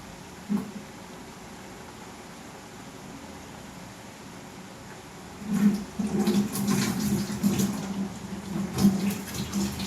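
Water is poured into a pan of coconut and garlic curry in a home kitchen, a sudden close splashing rush that starts partway through after a quiet stretch and continues unevenly.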